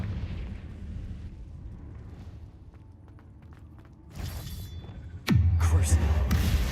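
Confringo fire spell in the game Hogwarts Legacy, a sudden loud blast that drops into a heavy low rumble near the end, after softer clattering effects.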